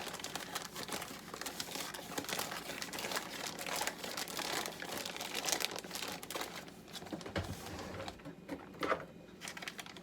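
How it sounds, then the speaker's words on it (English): Plastic piping bag being handled and cut in a kitchen while making vegan gluten-free pancakes: continuous close crinkling and rustling of plastic, soft and busy throughout with small snips and scrapes. "And I'll just cut the tip off the bag."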